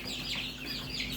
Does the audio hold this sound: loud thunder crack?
no